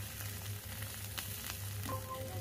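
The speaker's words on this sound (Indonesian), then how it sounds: "Nah, di sini saya tambahkan sedikit air ya Bun, atau secukupnya dikira-kira saja ya Bun." Green beans and shrimp sizzle in a pan as water is added, giving a soft, steady frying hiss with light clinks of stirring, quiet and close.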